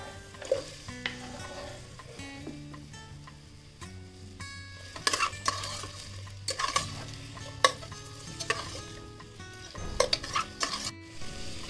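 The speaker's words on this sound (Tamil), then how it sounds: "எண்ணெய் காஞ்சதும் கட் பண்ணி வச்சுருக்க வெங்காயம், பச்சை மிளகா, உருளைக்கிழங்கு 3த்தையும் ஒன்றாவே ஆட் பண்ணிக்கலாம்." Onion, green chili and potato sauté in coconut oil for a Kerala-style mutton stew, with a soft sizzle under frequent spatula clinks and scraping stirs against the pan and no talking.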